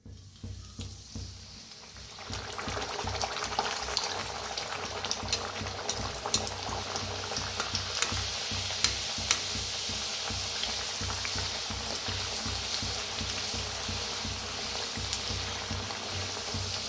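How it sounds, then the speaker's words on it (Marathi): Fenugreek puris deep-frying in hot oil, a steady dense bubbling sizzle that swells after a quieter start and continues close and even for the rest of the stretch, no voices. "आता पुऱ्या तळून घेऊया."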